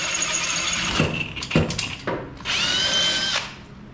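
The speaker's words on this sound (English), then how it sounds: "I need to drill a hole in the luggage rack for this one here." A power drill bores a hole in the luggage rack of a 1931 Ford Model A. It runs in several short, loud whirring bursts, then a longer high-pitched spin that squeals as it cuts.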